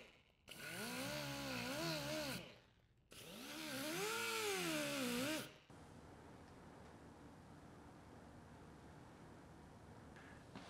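A medium Scotch-Brite surface conditioning disc on a power tool spins up twice in loud, wavering whirring bursts against a stainless steel TIG weld, then settles into a quieter steady hiss.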